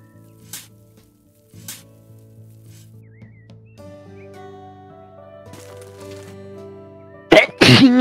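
A sharp, loud sneeze bursts out near the end, a double explosive blast over quiet gameplay of House Flipper with soft tones and faint clicks beforehand.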